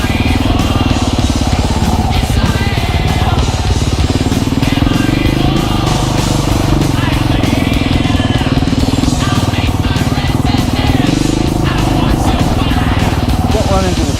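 A dirt bike rides a forest trail on Little Naches Trail 945, its engine droning loud and steady throughout with shifting pitch as the rider works the throttle, and a voice speaking over it.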